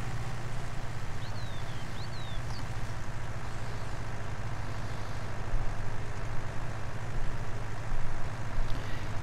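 A tractor drives steadily in Farming Simulator 19, its low engine drone running continuously throughout, with a few faint chirping tones early on and the rumble swelling slightly near the end.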